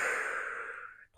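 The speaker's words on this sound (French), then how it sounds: "Vous allez le sortir de votre chakra cœur et vous allez souffler dessus" A single long breath blown out through the lips, a close, soft airy exhale that fades away after about a second.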